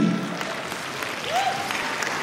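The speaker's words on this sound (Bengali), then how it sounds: "আপনারা তার জন্য একটা করতালি দিবেন" Audience applause at a VAAUS grand reunion for the chief coordinating officer, steady dense clapping filling the hall with a faint voice briefly audible partway through.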